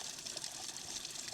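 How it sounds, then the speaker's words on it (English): Steady rushing, bubbling water noise, continuous and fairly close, with no voices. "Yeah, it's boiling well."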